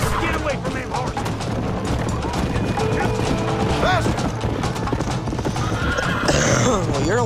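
Horses in the video game Red Dead Redemption clatter and clip-clop close by and neigh loudly several times, among crashes and bursts of gunfire, with people shouting over the commotion.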